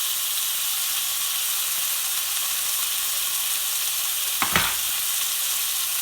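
Tuna steaks sear steadily in a hot frying pan, a continuous even sizzle throughout, with a brief louder crackle burst near the end as the fish is turned over.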